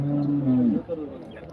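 A cow at the Karungalpalayam cattle market in Erode gives one low, drawn-out moo that fades within about a second, leaving faint market background noise.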